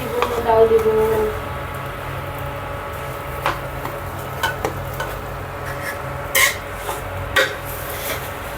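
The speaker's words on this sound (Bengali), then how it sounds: "তারপর আমি সুন্দর করে সুন্দর মতো চালিয়ে নিব" Pulao rice for khichuri is stirred in a cooking pot, with a spoon scraping and knocking at irregular intervals over a soft, steady sizzle.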